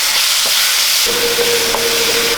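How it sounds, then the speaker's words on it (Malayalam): Ground onion and chili paste frying in a pan for Kerala egg thoran, a loud continuous sizzle that swells after a moment as the paste hits the hot oil, with faint stirring scrapes and no voices. "നമ്മൾ അരച്ചെടുത്ത സവോളയും മുളകും എല്ലാം കൂടി ഇതിലേക്ക് ഇട്ട് കൊടുക്കാം."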